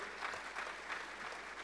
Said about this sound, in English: Let's clap and please come on the stage.